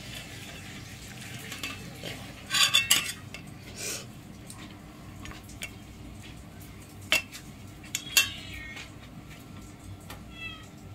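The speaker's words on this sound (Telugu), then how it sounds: "ఇప్పుడు ఈ మిశ్రమం మొత్తాన్ని కలిపేసుకోవాలండి." A fish curry mixture is stirred in a cooking pan, giving a few sparse scrapes and metallic clinks over a quiet background, with brief louder bursts of spoon-on-pan contact.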